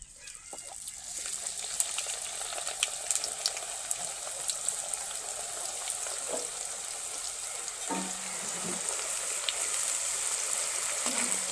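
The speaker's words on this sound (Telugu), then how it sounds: "వాళ్ళైతే నూనెలో బాగా ఫ్రై చేసాను. ఇప్పుడు మళ్ళీ రెండోసారి వేస్తున్నా." French fries going into hot oil for a second fry: a continuous bubbling, crackling hiss that holds steady and grows slightly louder toward the end, close and without talk.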